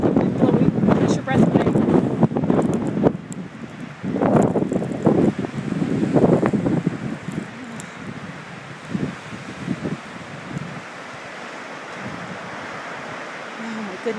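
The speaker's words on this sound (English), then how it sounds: "You can hear the wind." Strong winter wind storm in Anchorage, Alaska, heard from a driveway: loud gusts buffeting the microphone in bursts, easing to a steadier rush, with a person speaking between gusts.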